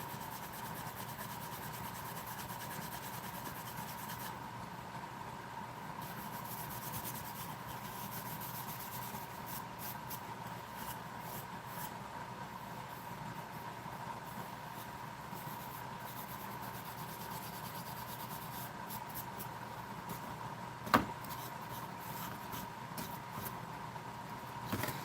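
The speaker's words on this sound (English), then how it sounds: "Probably should get some higher grit sandpaper than just 220" Wood being sanded by hand with 220-grit sandpaper in a home workshop: a faint, steady rubbing that runs continuously, with a steady hum behind it and one brief sharp knock near the end.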